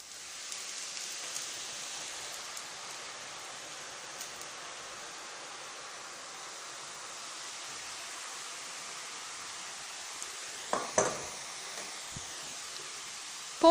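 Omapodi dough pressed straight into hot oil sizzles in a steady, soft hiss throughout, with a brief clatter near the end.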